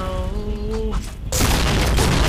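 A loud explosion in a Thai-played Point Blank shooter game bursts in after a second of tonal game sound, followed by a sustained noisy roar that fills the rest of the moment.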